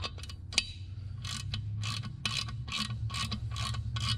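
A ratchet drives down the bolt of a valve spring compressor on a 5.0 Coyote engine, giving a series of close, crisp clicking strokes in a steady rhythm with short pauses between.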